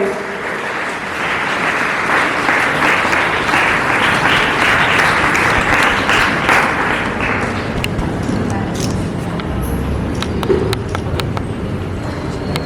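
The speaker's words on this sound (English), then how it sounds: "Let's give an equal round of applause for his remarkable achievements." Steady, loud round of applause from a school audience at a Republic Day award ceremony, dense clapping for several seconds that thins into scattered claps toward the end.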